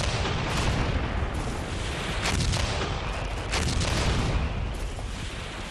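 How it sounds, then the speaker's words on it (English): Soviet artillery barrage opening the Red Army offensive of January 1945, a dense rumbling wall of distant gunfire and booms overlapping continuously, heavy and sustained. "the Russian offensive began with the usual artillery barrage"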